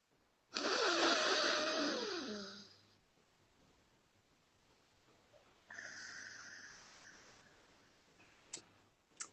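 Two long, airy breaths drawn through the nose during an alternate nostril breathing exercise. The first is loud and rushing, fading over a few seconds, followed by a pause and then a softer, steady second breath, with a couple of faint clicks at the end.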